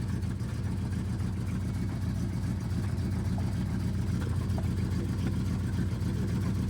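A Toyota Corolla KE35 engine pulls in first gear, a steady mid-pitched drone with a rhythmic low pulse and no letup.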